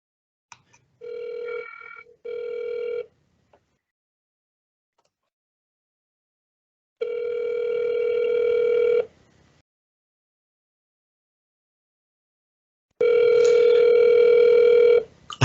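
Telephone ringing in repeated electronic bursts: two short chirps, a pause, then two longer steady rings several seconds apart, each a clear tonal buzz, loud and close with silence between.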